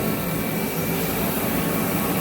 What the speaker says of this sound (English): The heaters on.